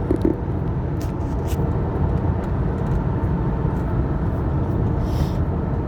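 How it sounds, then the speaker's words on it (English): A car drives through traffic after a downshift from sixth to fifth gear, giving a steady low engine and road rumble that is heard alone, with no talk and no sharp events. "So I just downshifted from sixth to fifth"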